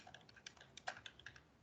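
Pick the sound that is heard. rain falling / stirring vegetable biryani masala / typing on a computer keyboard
typing on a computer keyboard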